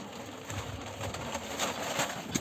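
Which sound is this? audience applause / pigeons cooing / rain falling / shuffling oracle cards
pigeons cooing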